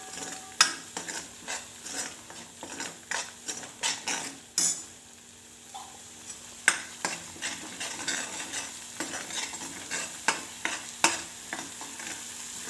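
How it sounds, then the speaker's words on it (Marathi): Masala fries in oil in a pot for misal pav, with a constant sizzle broken by repeated sharp scrapes and knocks of a spoon stirring against the pan, close and fairly loud. "याला चांगलं असं तेल सुटेपर्यंत करपून घ्यायचं चांगलं"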